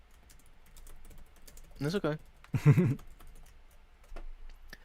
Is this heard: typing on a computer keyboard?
yes